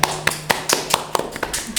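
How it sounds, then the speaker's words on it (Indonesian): Hands clap in a steady rhythmic beat, close and fairly loud, applauding a teacher's placing in a provincial librarian and education staff competition, with no voices over it. "Tepuk tangan."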